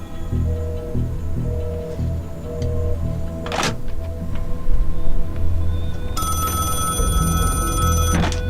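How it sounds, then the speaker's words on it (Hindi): An old-style telephone rings in an office during a tense spy-thriller exchange, its bell clattering in a bright burst near the middle and again toward the end over a steady low background hum. "सर, वही दानियाल खान का फोन है।"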